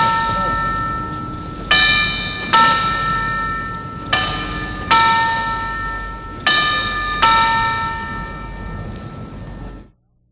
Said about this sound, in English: I want you to listen to these little chimes from this clock.